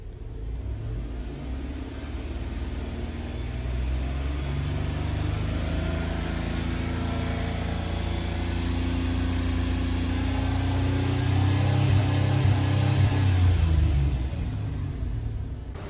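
A 3.8 liter V6 Dodge Grand Caravan engine accelerates during an EGR test, its low rumble building steadily and rising in pitch toward the end, heard close and loud with no talking.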